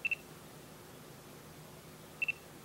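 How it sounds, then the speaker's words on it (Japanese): A Panasonic Lumix DMC-SZ9 compact camera fires its shutter electronically, giving two quick faint double clicks or beeps, one at the start and one near the end, over a quiet steady room hiss. "シャッター音が鳴りました。"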